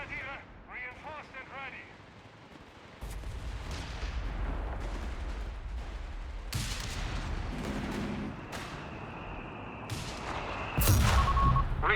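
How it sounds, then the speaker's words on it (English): Artillery airbursts boom repeatedly through a Company of Heroes 3 battle, with several loud blasts layered over constant rumbling combat noise, and a voice talking over the action. "Air burst action out there."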